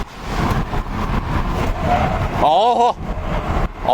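A Kia Stinger engine roars at high revs throughout, its pitch rising and falling, with a sharp whine near the end; a voice talks over it.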